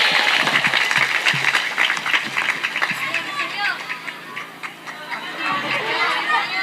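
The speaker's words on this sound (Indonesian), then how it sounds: "Tepuk tangan dulu untuk Ramadhani." Applause from a crowd at an Islamic religious gathering, given for a young boy named Ramadhani; scattered clapping mixes with chatter, children's voices and people talking over it throughout.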